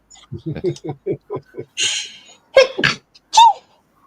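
A short burst of speech is followed by a sharp sneeze, then another quick sneeze a moment later, close and fairly loud.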